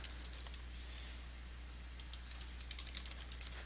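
Light, rapid keystrokes on a computer keyboard while entering a filename in HTML code, two short bursts of close clicking over a low steady hum.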